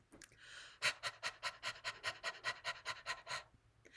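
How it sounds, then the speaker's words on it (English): A singing teacher demonstrates a panting breathing exercise during a vocal workshop, giving about fourteen quick, even breathy pants in steady rhythm, close and fairly quiet with no talking. "Now, do you guys remember the panting exercise?"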